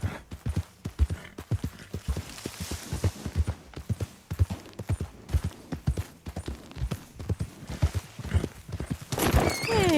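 Horse hooves clip-clop in a steady, brisk rhythm close by in the video game Red Dead Redemption 2, with a brief whinny and some rustling near the end.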